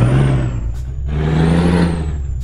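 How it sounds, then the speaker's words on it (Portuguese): A truck in Euro Truck Simulator 2 starts and pulls forward, its steady low engine drone rising slightly in pitch, with a couple of short hissing air-brake bursts over the hum. "Deixa eu ligar o caminhão aqui."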